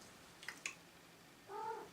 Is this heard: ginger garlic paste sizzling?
no